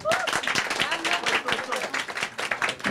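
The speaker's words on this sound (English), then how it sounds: "I think you all can give a big round of applause." Applause at a Bollywood book launch with Amitabh Bachchan, a dense burst of many hands clapping steadily throughout, fairly loud and close, with crowd murmur underneath.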